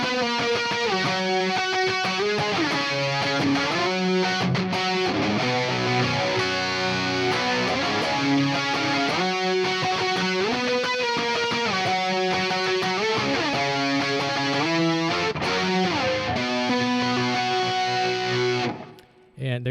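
Eastwood Airline '59 3P DLX electric guitar played through distortion, with strummed chords and riffs in a steady rhythm, loud and continuous for about 19 seconds before a sudden cut at the end.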